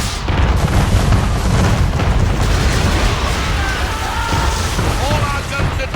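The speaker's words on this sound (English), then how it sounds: "Man of war's firing!" Warship cannons of an attacking man-of-war fire in a naval battle in Assassin's Creed III, heavy booms rolling under a dense, continuous roar of battle noise throughout, with a few faint shouts.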